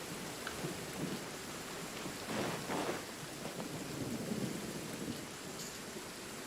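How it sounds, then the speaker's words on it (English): Steady rain pours down while low thunder rumbles in the distance, swelling twice before fading back into the constant downpour, in a village in the video game Genshin Impact. "It's raining here."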